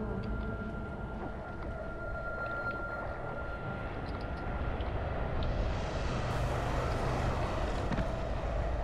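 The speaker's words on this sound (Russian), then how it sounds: "Ух ты ж, самолет летит." An airplane flies overhead in the Dying Light video game, heard as a constant broad engine roar that swells slightly louder toward the end, with no voices over it.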